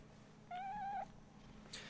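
A single cat meow lasting about half a second, close and clear over a quiet background hum, followed by a faint short rustle.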